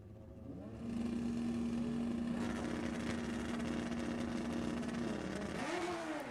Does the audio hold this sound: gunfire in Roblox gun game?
no